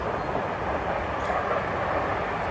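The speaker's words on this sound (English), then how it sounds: "excuse the train in the background there going past." A passing train rumbles as a steady, broad roar behind an overnight outdoor session, holding constant for a few seconds with no talk over it.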